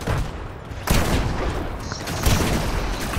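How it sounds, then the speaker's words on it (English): Gunfire bursts and a blast in an online gun game, a loud crack near 0.9 s followed by sustained rattling fire and a second hit around 2.3 s, dense and continuous with no talk. "Bam, an explosive."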